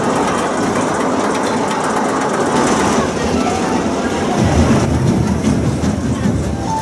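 Loud rumbling and rattling of a mine train roller coaster (El Diablo Tren de la Mina, PortAventura) running along its track, a steady mechanical roar with clattering throughout.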